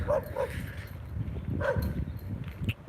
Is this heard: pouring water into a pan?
no